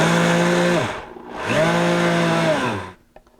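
A Vitamix blender pulses blanched almonds into flour in two loud bursts of motor roar, each spinning up and winding down, with a short gap between and a faint clatter after the second stops.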